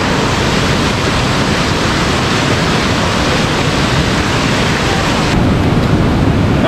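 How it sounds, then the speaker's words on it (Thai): A waterfall in full spate with a heavy, powerful flow, roaring as a steady, loud wash of rushing water throughout with no voices over it. "น้ำแรงมากครับเนี่ย"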